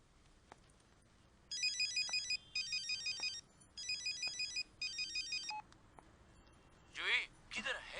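A phone ringtone sounds in four repeated electronic bursts at steady intervals, fairly loud and close, followed by brief rustling as the call is picked up.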